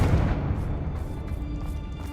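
A Confringo fire spell blasts in Hogwarts Legacy, a dense booming burst at close range that rumbles on through the whole moment with no one talking.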